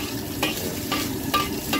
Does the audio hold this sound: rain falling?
no